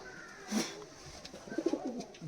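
Giribaj pigeon of the kal duma colour cooing in a loft, a soft breathy coo followed by a short run of throaty pulses, fairly close and quiet against low background hiss.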